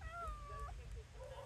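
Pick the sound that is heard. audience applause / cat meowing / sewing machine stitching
cat meowing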